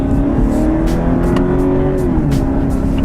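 A Cadillac CTS in sport mode gives a loud, throaty engine drone heard from inside the car, the pitch holding steady and then easing slightly as it pulls.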